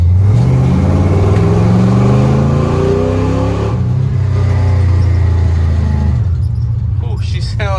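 A 1977 Dodge D200 truck engine in first gear gets a quick throttle blip, rising from a deep rumble to a harsh rev and settling back to a rough idle, loud and close.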